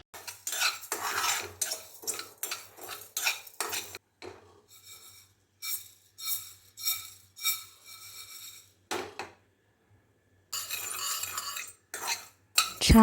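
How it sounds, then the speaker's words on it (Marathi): Carom seeds and cumin are dry-roasted in a pan, making a quick series of scraping, stirring and metallic utensil scrapes in rhythmic bursts, pausing briefly before resuming, with no talk. "हे सर्व साहित्य आपल्याला छान असा सुगंध येतपर्यंत खरपूस भाजून घ्यायचं आहे."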